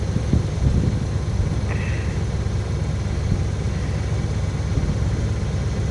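A 1978 Chevrolet K20 truck engine, restarted after sitting 15 years, idles with a steady low rumble that holds at an even level throughout, with no talk.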